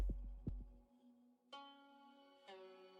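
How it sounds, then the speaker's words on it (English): A creature's heartbeat in the video game Arknights, a few low thumping pulses at the start that fade under a sustained eerie musical drone with chiming tones. "You can hear it, can't you? Its heartbeat."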